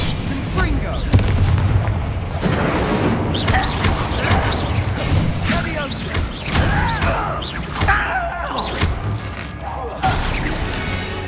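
Incendio fire spell cast during a Hogwarts Legacy fight, a string of loud booming and crashing bursts spread through a chaotic combat soundscape, with voices speaking in between.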